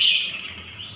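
A prize-winning songbird that took third place in a contest chirps in a bright, continuous run of high tweets, loudest at the start and easing slightly, close by with no talk.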